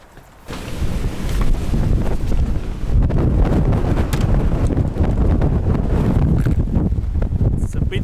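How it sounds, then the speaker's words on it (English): Strong wind buffets the microphone outdoors in Iceland's Westfjords, a loud continuous roar and rumble that starts after a quiet half second and persists to the end. "It's a bit windy today."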